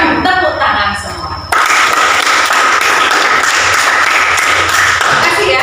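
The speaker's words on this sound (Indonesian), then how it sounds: "Tepuk tangan semua." A classroom of children clapping their hands together, a dense, loud burst of applause that starts abruptly and carries on steadily after some brief chatter at the start.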